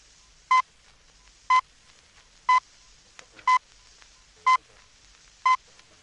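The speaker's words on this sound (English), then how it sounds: "the Greenwich time signal" The Greenwich time signal on radio: six short, evenly spaced pips, one each second, bright and clean over a faint background hiss.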